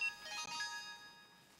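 A telephone rings with an incoming call, giving a short, fairly faint electronic ringtone with tonal chimes that fade out over a moment.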